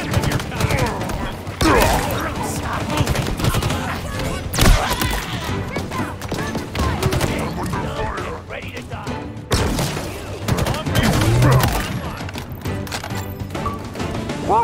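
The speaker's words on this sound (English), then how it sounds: "Rocket launcher." Halo Infinite campaign combat with rocket launcher blasts and gunfire, several heavy booming impacts and crashes scattered among bursts of shooting, loud and close, with in-game voices and music underneath.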